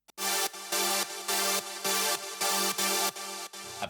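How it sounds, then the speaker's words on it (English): A big, wide supersaw synth preset plays rhythmic chords, processed with OTT compression, a gate, EQ and delay, giving seven loud chopped stabs in steady succession with sharp gated cutoffs between them. "It's just a big kind of super saw sound that sounds like this."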